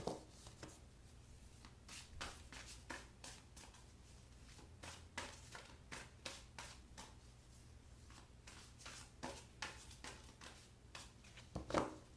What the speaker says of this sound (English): I'm going to shuffle the Brow de Talege cards now